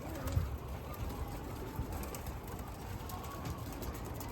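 Mardin pigeons cooing softly in a loft, low murmuring coos running steadily through the clip at moderate level with faint background noise.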